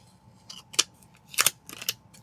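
Scissors snip through paper during a planner layout session, a few short crisp cuts in quick bursts with pauses between, close and fairly quiet.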